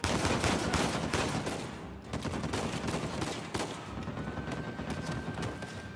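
Rapid bursts of video game gunfire in Uncharted 4, with dense overlapping shots and bullet impacts that continue steadily across the whole stretch, moderately loud with no talk over them.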